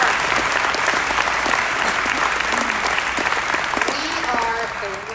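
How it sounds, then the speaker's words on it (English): An indoor audience at a grand opening applauds steadily through the whole stretch, dense clapping that tapers slightly toward the end, with faint voices under it. "you should clap for that"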